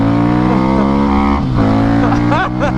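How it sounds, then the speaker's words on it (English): A Harley-Davidson Street 750 motorcycle revs hard and close, its engine note climbing and bouncing against the rev limiter with rapid repeated surges and dips. "You can bounce this thing off the rev limiter every day, every single time."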